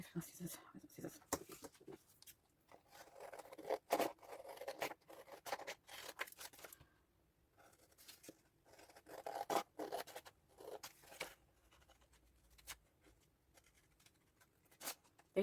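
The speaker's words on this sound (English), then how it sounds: "Let's just cut this with scissors." Scissors cut through paper for a vintage photo folio, a series of crisp, irregular snips and scratchy rustles that come close up in short bursts with pauses between them.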